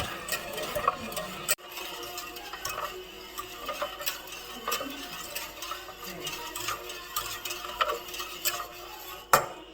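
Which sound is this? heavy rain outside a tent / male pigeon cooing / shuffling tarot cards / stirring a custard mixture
stirring a custard mixture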